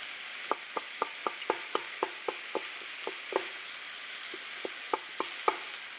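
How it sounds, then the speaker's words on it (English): Carrots being peeled with a hand peeler in a home kitchen: a run of short, crisp scraping strokes in quick rhythm, close and fairly quiet, with a brief pause midway before a few more strokes. "Let's peel these carrots."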